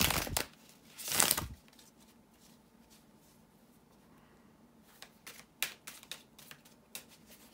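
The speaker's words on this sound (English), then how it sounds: "bear with me a second, guys, to shuffle the tarot cards" Tarot cards being shuffled by hand, with two louder riffling bursts near the start and a run of short, crisp card snaps and flicks toward the end, close and fairly quiet with no talking.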